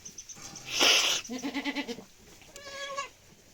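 A goat bleats several times, close by: a sharp cry, then a wavering pulsed bleat, and a thinner higher call after a pause.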